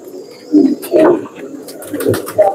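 Pigeon coos from a red phanair kabootar, a few soft rounded calls close by over a low ambient background.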